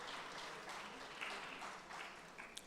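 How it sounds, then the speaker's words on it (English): Audience applause at a panel on gender and fashion, faint distant clapping sustained throughout at low level. "That deserves a round of applause, please."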